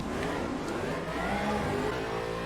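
A car engine revving steadily while driving along a race track in the Roblox game Driving Empire, a continuous mid-pitched drone that rises and falls slightly with no talking over it.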